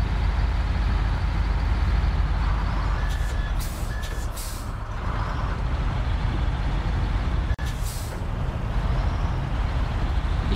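Heavy truck in the SnowRunner video game, a loud, steady low engine drone with reversing beeps and a short air-brake hiss near the end.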